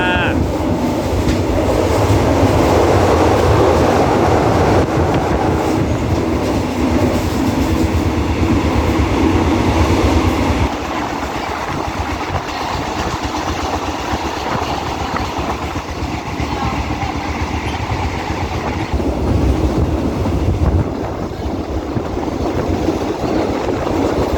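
A passenger train in Thailand, departed from Hat Yai, rumbles steadily along the rails with rattling carriages and clickety-clack, loud and close as if heard from on board, with a few faint voices.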